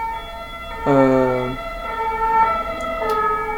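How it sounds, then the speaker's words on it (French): Wailing ambulance sirens in a video game, loud, with a rising harmonic tone that holds and then continues more faintly; a voice makes a brief hesitation sound. "Allez, les ambulances, allez sauver quelqu'un."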